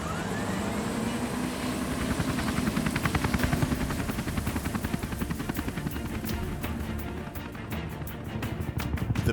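Rescue helicopter Lifesaver 23 taxiing for departure on runway 36, a steady loud rotor and turbine drone with rapid rhythmic blade chop growing more pronounced toward the end, no talk.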